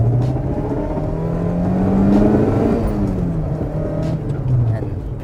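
The engine of a 2005 Toyota Corolla revs up and falls back, a steady droning hum rising and easing, heard close with voices talking over it.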